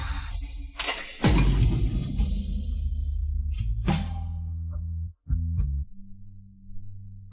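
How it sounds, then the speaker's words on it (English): A glass lamp shatters with a loud crash near the start, followed by tinkling pieces and a second smaller breaking burst, over a steady low musical drone. "Who hung the young lady's favorite glass lamp here? And it's broken."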